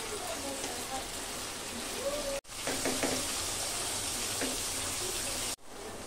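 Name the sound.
spices frying with okra for korma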